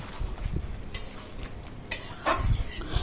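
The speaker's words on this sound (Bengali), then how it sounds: "এখন তার সাথে একটু নাড়িয়ে নেব।" A soybean curry with spices being stirred in a pan, with a few scraping and knocking strokes of a spoon against the metal and a low sizzle underneath.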